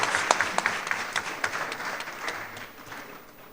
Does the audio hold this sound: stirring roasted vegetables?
no